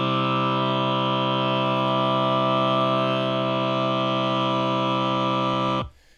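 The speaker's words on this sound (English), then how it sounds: "So that's our justly tempered triad with the lowered third" A justly tuned major triad with its third lowered below piano pitch, likely sung by a vocal ensemble: a steady, rich chord held for about six seconds, loud and clean, then cut off abruptly.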